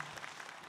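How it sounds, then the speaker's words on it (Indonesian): Audience applause for Ustazah Lulung at an Islamic studio talk show, a brief, quiet burst of clapping that continues steadily for the short moment heard. "Tepuk tangan untuk Ustazah Lulung, ya Allah."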